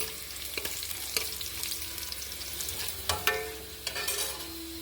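Onion and two green chillies fry in a pan for lentil curry, giving a steady sizzle with stirring scrapes and a few sharper spatula clacks, close and moderately loud, no talking.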